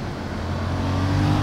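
A Yamaha XSR700 with a crossplane twin-cylinder engine accelerating, its steady rising engine drone with a strong low hum and gradually climbing pitch, loud and close, continuous over the short stretch without talk.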